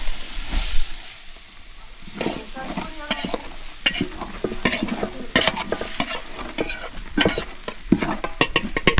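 Loud, close sizzling and scraping as chili, black pepper, coriander and turmeric powders are stirred and fried in a pan for a large batch of home-style chicken curry, with continuous crackle and frequent utensil strokes.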